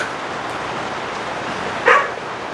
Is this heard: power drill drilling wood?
no